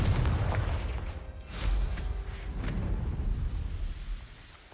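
A Confringo fire spell in Hogwarts Legacy bursts with a loud booming blast, followed by a rumbling tail and a couple of smaller crackling pops fading out.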